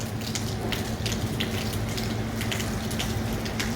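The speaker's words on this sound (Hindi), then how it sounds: "ये देखिए, ये रात भर से बारिश लगी हुई है" Steady monsoon rain that has fallen all night under dark clouds, a dense, even hiss of falling water close by with scattered brighter spatters, heard alone and unbroken throughout.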